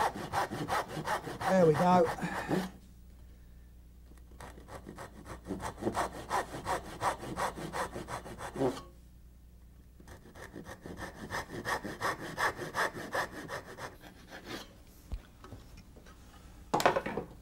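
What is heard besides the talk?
hand saw cutting wood dovetails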